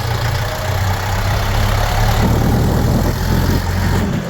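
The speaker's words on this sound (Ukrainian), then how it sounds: "даємо газу. Даємо четверту передачу." A Ukrainian-built DTZ 40-horsepower tractor engine runs steadily in fourth gear, a loud, close, continuous rumbling drone with a constant low throb and no talk over it.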